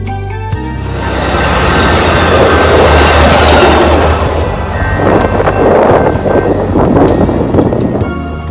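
An eastbound freight train rolls past on the line, a loud sustained rumble with wheel clatter and wind buffeting the microphone, swelling and easing over several seconds without speech.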